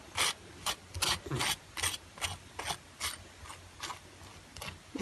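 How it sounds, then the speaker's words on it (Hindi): Mayonnaise is spread onto a chicken steak burger bun, a series of soft, rhythmic scraping strokes, each brief and close, repeating about twice a second and fading slightly toward the end with no talking. "पहले हम सबसे पहले मायोनीज लगाते हैं"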